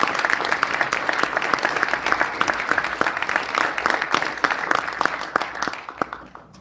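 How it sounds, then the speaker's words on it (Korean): Sustained audience applause at a conservative speech rally in Seoul's Press Center, dense and steady from many hands, tapering off near the end. "여러분 큰 박수 부탁드리겠습니다."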